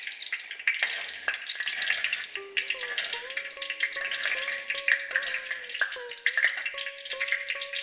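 Peppercorns frying in a pan being stirred, a constant crackling sizzle with scraping stir strokes, close and fairly loud, alongside a faint melodic tone in the background.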